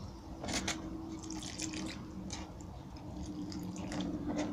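Water laced with potassium permanganate poured onto garden soil in a seedling pot, giving a soft, steady trickle with faint drips and patters over a low background hum.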